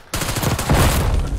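Rapid, continuous shotgun fire in a Call of Duty match: a sudden loud onset followed by dense overlapping blasts that sustain at high volume, close and alone without talk.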